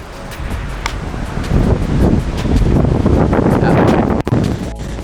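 Strong wind buffets the microphone on an open golf course during a Nebraska match play championship, a loud continuous low rumble with gusty swells and no speech.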